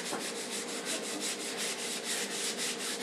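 Hand sanding of wood for a shelf with 120 grit sandpaper, rhythmic back-and-forth scratchy rubbing strokes, about five per second, close and steady with no voices.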